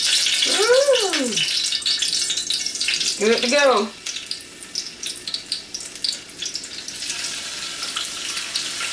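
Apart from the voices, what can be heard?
water dripped into hot frying oil, sizzling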